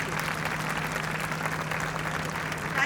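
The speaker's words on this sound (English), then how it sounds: "Now can I have a shared round of applause for now everyone's on stage?" An audience at a book launch claps in steady, sustained applause that fills the room evenly without a break, with a faint voice underneath.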